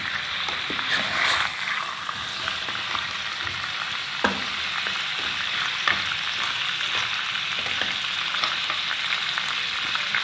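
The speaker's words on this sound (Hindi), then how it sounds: "आप इसको 5 मिनट इसी तरह बस भूनें।" Mutton chops sizzle steadily in a hot pan, a bright continuous frying hiss with occasional soft stirring scrapes and clicks, with no voices over it.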